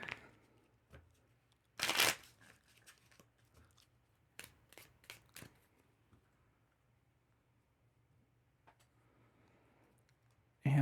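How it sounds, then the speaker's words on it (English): Board game cards for Citizens of the Spark are shuffled at a table, a loud riffling burst followed by scattered soft clicks and taps of cards being squared, with quiet gaps between. "So let's just shuffle that up."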